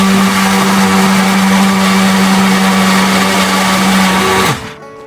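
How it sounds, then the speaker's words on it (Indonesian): A kitchen blender grinds shallots, garlic, red chilies, bird's eye chilies and turmeric into a paste with a loud, steady motor whine, then cuts off abruptly near the end and leaves a brief quiet tail. "Nah, ini kita blender sampai halus ya teman-teman."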